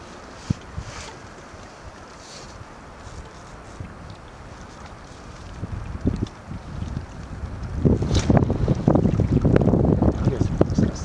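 Wind gusting over a boat on a lake, a steady low rumble that swells into louder, buffeting microphone gusts in the last few seconds.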